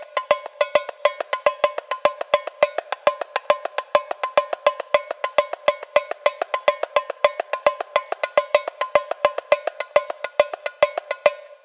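A tamborim is struck rapidly on its rim, sharp bright metallic-sounding hits in a steady, driving rhythm with some accented beats.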